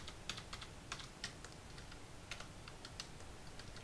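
Quiet clicks of computer keyboard keys pressed for Photoshop shortcuts, a run of irregular taps close up with short pauses, no talking.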